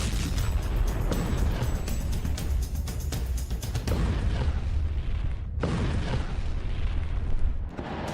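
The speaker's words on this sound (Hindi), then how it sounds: "महायुद्ध में बमों की बारिश हुई," Rolling heavy explosions from wartime bombing between Russia and Ukraine, loud and dense, with repeated booms and crackling blasts layered continuously throughout.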